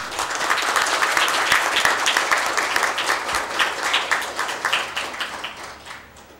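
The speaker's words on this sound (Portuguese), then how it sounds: "queria pedir uma salva de palmas para os outros que já foram homenageados, mas também para o ex-deputado Floriano Beze" A legislative assembly gives a round of applause honoring former deputies. Many hands clap together in a full, sustained burst that gradually thins into scattered claps toward the end.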